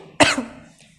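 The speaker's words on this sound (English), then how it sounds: "I'm coughing a lot." A single sharp cough bursts out close by, followed by a short fading tail in an otherwise quiet room during a maths lesson.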